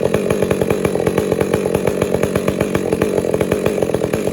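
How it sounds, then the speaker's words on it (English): A Stihl 400C chainsaw runs steadily and loudly up close while cutting a firewood log, its engine holding a dense, even drone with rapid pulsing chain chatter throughout and no talking. "I've had the saw over there warming up, so let's get to it. Let's make some sawdust."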